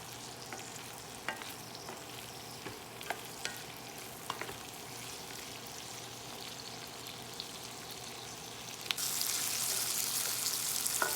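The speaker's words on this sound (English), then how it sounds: "Now that we're frying up everything, it looks pretty good." Steady hiss of vegetables with green onions sizzling in a hot pan, with occasional light clinks of stirring; the sizzle grows louder near the end.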